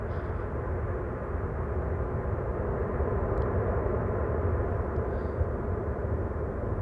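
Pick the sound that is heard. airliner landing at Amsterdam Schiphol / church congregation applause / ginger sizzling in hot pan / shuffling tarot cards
airliner landing at Amsterdam Schiphol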